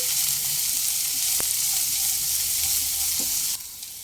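Chopped onion fries in a pan for a fish-head and pumpkin-greens chorchori, a constant loud sizzle broken by a couple of sharp utensil knocks as it is stirred, easing slightly near the end.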